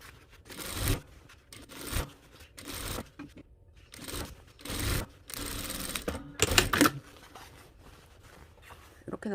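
Sewing machine stitching diamond quilting lines through fabric bonded to padding, short bursts of rapid clattering stitches broken by pauses and fabric handling, close, with someone talking in between.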